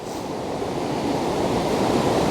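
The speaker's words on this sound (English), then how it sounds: "the rain started already and I can feel it getting really heavy" Heavy rain pours outdoors beside a river, a dense, steady, loud hiss that fills the whole stretch without a break.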